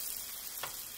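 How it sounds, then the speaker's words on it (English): A soft, steady sizzle of popcorn chicken frying in oil, quiet and close, with a brief crackle partway through. "you want to hear a light sizzle."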